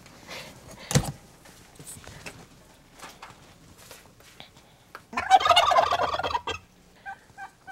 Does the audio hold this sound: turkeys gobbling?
yes